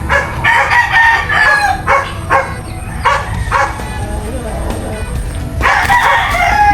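Roosters crow and squabble in a backyard cockfight, with loud overlapping calls and clucking, a dog barking now and then, and people talking throughout.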